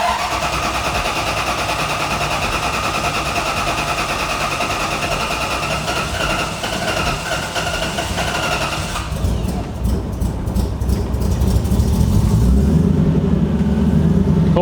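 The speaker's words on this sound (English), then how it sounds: "turn on the fuel pump, and then crank the engine." A supercharged 1UZ V8 in a drift truck cranks with a long, steady starter churn, then cold-starts around the ninth second into a loud, rough, deep idle.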